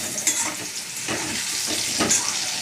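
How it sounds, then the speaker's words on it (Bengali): Potatoes frying in a pan, a continuous close sizzle with a few faint scrapes and clinks, no voices. "আলুটা হয়ে গেছে ভাজা"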